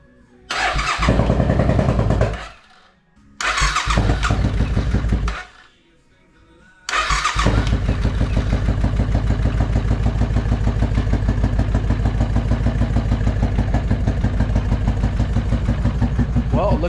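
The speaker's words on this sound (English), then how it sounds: "Squirt a little fuel in there and see if she'll light." A Suzuki motorcycle engine cranks in two loud bursts separated by gaps, then catches and settles into a steady, close, loud idle for the rest of the time.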